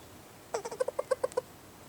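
A short burst of about a dozen rapid, low-pitched croaking pulses from a cane toad, faint against a quiet outdoor background.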